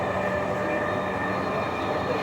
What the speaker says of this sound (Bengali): This train is bound for Motijhil.